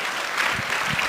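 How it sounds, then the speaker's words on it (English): Audience applause for Reverend Jackson at the PUSH Tech conference: a brief, dense burst of clapping from a crowd, loud and steady with no talk over it. "give Reverend Jackson a round of applause"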